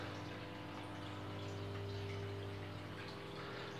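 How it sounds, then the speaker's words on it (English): A small pump pushes water through NFT hydroponic channels from a 30 litre tub, a faint, steady hum under a soft trickle of water draining from the channel outlet, with no voices. "So the pump is in the 30 litre tub and excess water is leaving from the channel outlet."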